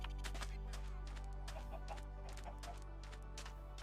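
Chickens cluck in a Minecraft game, a string of short irregular clucks over a steady low hum, fairly faint and without talk.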